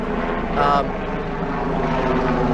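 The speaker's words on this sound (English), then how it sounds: "We got a very loud helicopter right there." Steady droning rumble of a helicopter, loud and continuous, with a brief swell partway through.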